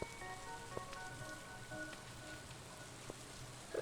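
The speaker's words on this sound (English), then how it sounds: "it is a rainy day" Rain falls in the Stardew Valley video game, a soft, steady patter that runs throughout at low volume alongside faint tonal game sounds and a few light ticks.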